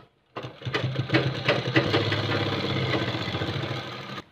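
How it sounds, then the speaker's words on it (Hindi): A sewing machine stitches the front panel of a kurta in one continuous run, close and loud, with a rapid mechanical chatter that starts abruptly and stops at the end. "अब एक सिलाई इस साइड से भी लगा लीजिए आप।"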